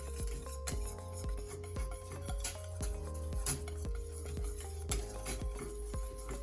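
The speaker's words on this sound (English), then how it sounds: "Now you're gonna put your flame to low or medium to low and keep whisking." A whisk clinks steadily against a pot of Jamaican plantain porridge cooking on a stove over low heat, the scraping taps repeating in an even rhythm close by, with no talking.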